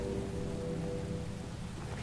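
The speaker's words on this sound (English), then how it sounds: "It's kind of rainy." Steady rain in the Neverwinter Nights video game, a faint, even patter with no voices.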